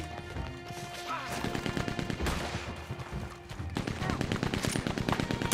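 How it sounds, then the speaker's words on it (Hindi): Machine gun fire in the video game Red Dead Redemption 2, sounding as rapid, dense bursts of shots that keep going almost nonstop. There is a brief lull midway before a heavier volley resumes. "अरे ब्रो मशीन गन से मार रहा मैं"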